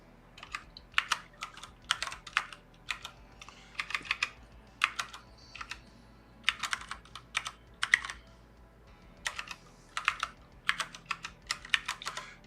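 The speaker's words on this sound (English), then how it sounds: "And I'm also typing on this new keyboard that I got." Someone types on a split computer keyboard with thumb clusters: steady bursts of clacking keystrokes in uneven runs with short pauses, close and moderately loud, with no talking.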